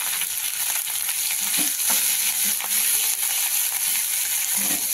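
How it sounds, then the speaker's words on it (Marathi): Jackfruit vegetable ingredients sizzle and fry in a pan as a spoon stirs them, giving a steady loud hiss with intermittent scraping and soft knocks, close up, with no talking. "छान मिक्स करून घेऊ।"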